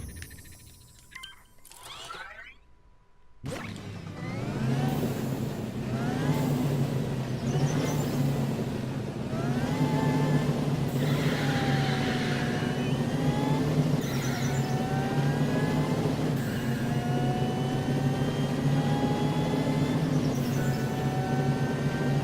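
A supercharged car accelerates in the video game LittleBigPlanet 3. The engine rises in pitch again and again through the gears, loud and steady. It follows a brief quiet, glitchy start.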